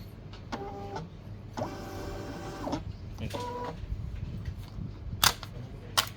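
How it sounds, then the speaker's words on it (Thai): A Soonmark M4201 thermal label printer prints a shipping label in several short motorized whirring bursts with pauses between, followed by a couple of sharp clicks, quiet and close with no talking. "ทีนี้ก็จะเป็นการพิมพ์ออกมาแล้ว"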